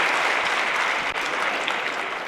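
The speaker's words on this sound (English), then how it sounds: "clap if you went further the second time" A seated audience bursts into loud, dense applause that carries on steadily for a couple of seconds, close and filling the room.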